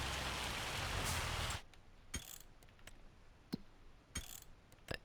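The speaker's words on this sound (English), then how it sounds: "And it starts raining soon." Rain in Farming Simulator 25: heavy, loud rain hisses for a moment, then cuts off abruptly, leaving faint patter broken by a few sharp clicks and taps.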